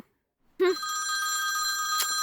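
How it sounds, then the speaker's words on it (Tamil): A phone rings with an incoming call: after half a second of silence, a steady electronic ringtone starts abruptly and continues, loud and close, to the end. "கரெக்டா ஃபோன் பண்றாண்டி"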